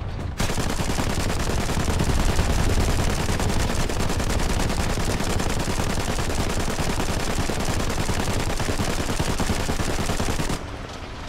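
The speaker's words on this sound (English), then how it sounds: "I got a machine gun on this thing." Sustained machine gun fire from a vehicle-mounted gun in the tank game War Thunder, a loud, continuous rapid stream of shots running nearly the whole time before cutting off abruptly near the end.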